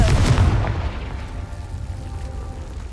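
A Confringo fire spell detonates in the video game Hogwarts Legacy: a loud, close explosive boom at the start, followed by a rumbling roar that slowly fades.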